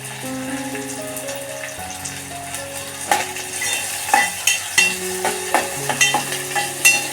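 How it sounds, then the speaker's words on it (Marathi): Onion sautéing with curry leaves and spices in a pan for a jackfruit-seed curry, a steady sizzle with repeated scraping stirs that grow louder and more rhythmic, over a sustained tonal hum in the background. "कांदा चांगला परतून घ्यायचा"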